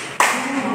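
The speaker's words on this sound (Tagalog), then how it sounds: "bigyan nyo lang yung mga sarili ng tatlong palakpak" Students in a classroom giving a quick burst of clapping, a single sharp onset that decays into a brief ringing tail, with voices murmuring around it.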